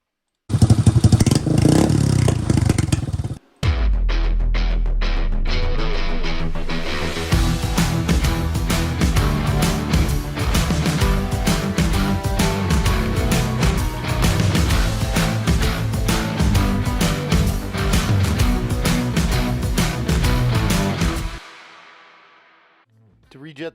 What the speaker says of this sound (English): try to get rid of all the backfiring, which you'll see right now when we rev it up